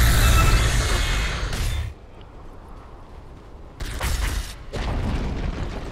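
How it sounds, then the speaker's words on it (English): A tower collapses in the Dota 2 video game with a heavy booming crash and rumbling debris, fading to a low rumble before a second burst of crumbling noise. "Dire's middle tower has fallen."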